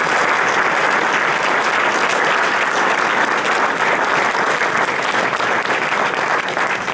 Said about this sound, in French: je pense qu'on peut l'applaudir chaleureusement